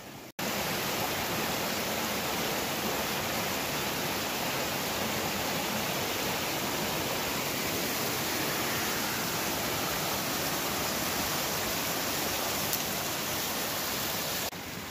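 A mountain creek flows in a continuous, even rushing wash of water that stays close and steady throughout, with nothing else heard over it.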